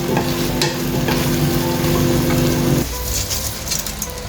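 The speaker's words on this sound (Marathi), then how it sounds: "घालून दिया एक बरें मिक्स ऑन हाय फ्लेम." Rice is stirred into a pan of potatoes and peas for pulao over a high flame: loud, steady sizzling frying with scraping stirring sounds, heard close up on its own.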